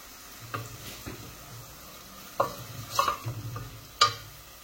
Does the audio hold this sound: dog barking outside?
no